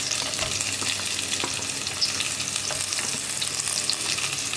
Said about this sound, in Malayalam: ഇനി ബാക്കിയുള്ള 2 സവോള ഇട്ട് കൊടുക്കുക.